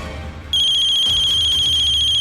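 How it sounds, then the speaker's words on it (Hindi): A mobile phone ringtone starts abruptly after half a second as a loud, steady, high electronic tone that continues to the end over a faint low background hum. "रजनी वर्मा का कॉल"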